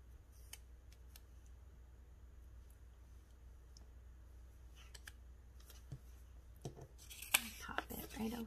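Scissors snipping out a sticker for a paper planner, soft sparse close cuts over a quiet background that grow busier and louder toward the end.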